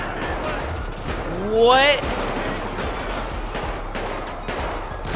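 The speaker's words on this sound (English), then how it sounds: "They're literally out there shooting, guys." Gang members trade gunfire in GTA 5 during a battle with police, dense rattling shots mixed with a rising siren-like wail, with someone talking briefly over the din.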